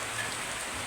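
Steady rain pours down in Pampanga during typhoon weather, a dense, even hiss of drops on surfaces filling the whole moment with no wind gusts or voices.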